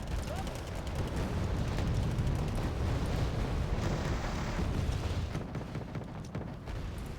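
Laser-guided bomb explosion in the strategy game Wargame Red Dragon: a dense, sustained rumbling blast with crackling debris that stays loud for several seconds before thinning out, with battle noise layered underneath.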